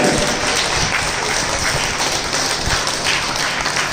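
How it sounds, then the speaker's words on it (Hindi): Audience at a Jain religious discourse in Nemi Nagar, Indore, clapping loudly together with hands raised, a steady dense wash of applause throughout. "एक बार ताली बजाना थोड़ा जोर से, दोनों हाथों को ऊपर कर।"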